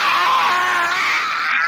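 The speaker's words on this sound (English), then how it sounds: "I'm not gonna scream like as loud as I possibly can, but I'm gonna scream." A person lets out one loud, sustained, strained scream close to the microphone, holding it steadily for under two seconds.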